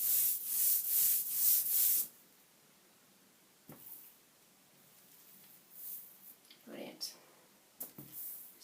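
Ink roller worked back and forth over dampened fabric during cloth lithography, a rhythmic close rubbing swish for about two seconds, followed by quieter scattered brushing and handling noises.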